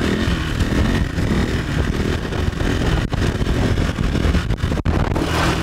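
Motorcycle engine revving hard and continuously before a wheelie, a loud, steady roar with brief dips in throttle, close by and heard alone.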